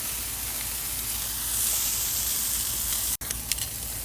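Thick pork chops and steak sizzling on a grill, a steady close frying hiss that swells slightly midway, with a brief dropout near the end and no talking.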